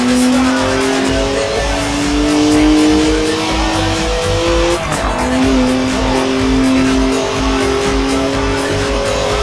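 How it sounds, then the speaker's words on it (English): A BMW in the racing game Forza Horizon 4 screeches through a long skid, sustained loud tire squeal with wavering pitch over a droning engine, continuous and close. "Look at the smoke! Please leave me some tread for the drive home, Stiggy."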